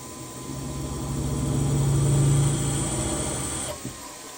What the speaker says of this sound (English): drilling a 6mm hole